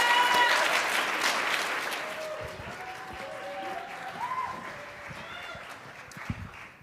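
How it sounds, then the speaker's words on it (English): Audience applause for a collegiate a cappella group, runners-up in an international competition, fills the hall loudly at first and gradually thins out, with faint voices and a few lingering claps near the end. "Give them a round of applause."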